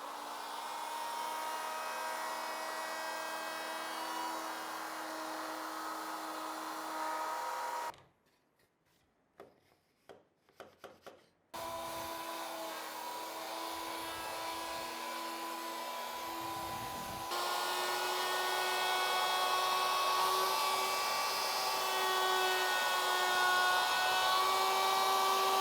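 Wood router fitted with a very large pattern bit runs loudly in a woodshop, a steady high whine broken by a brief pause with clicks, then resuming and rising louder toward the end, with no talking.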